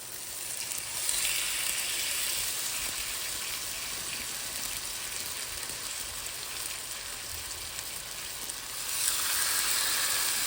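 Vegetable oil sizzles in a pan with a steady, hissy crackle that holds at moderate loudness for several seconds and swells briefly near the end.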